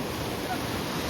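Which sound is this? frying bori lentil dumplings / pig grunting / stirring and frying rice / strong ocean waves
strong ocean waves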